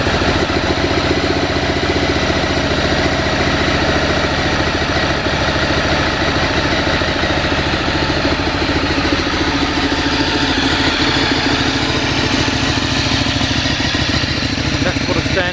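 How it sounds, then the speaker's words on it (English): A Ducati Streetfighter 848 motorcycle, started from cold, idles with a steady, loud, close-up engine rumble and mechanical clatter that runs unbroken from start to finish. "That's what a standard Ducati Streetfighter sounds like"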